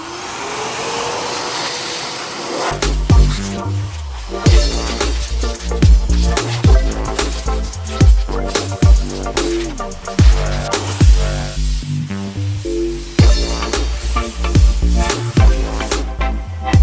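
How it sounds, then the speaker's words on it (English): A loud, continuous blowing whoosh from a handheld air dryer drying an Audi S4, soon joined by rhythmic background music with deep bass beats. "It's actually an air dryer, so I'm gonna turn it on."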